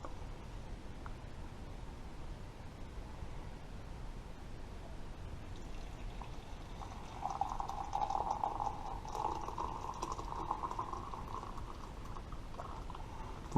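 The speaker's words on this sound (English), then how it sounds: "Here comes the pour." Coffee being poured from a Stanley 1.1 percolator pot, a faint liquid trickle that swells midway into a steady, soft pouring stream over a quiet hiss of background noise.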